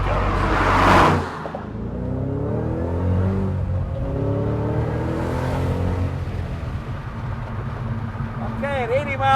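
A 2013 Ford Mustang Shelby GT500 accelerates onto the freeway, its engine note climbing and revving in rising sweeps inside the cabin while someone talks over it.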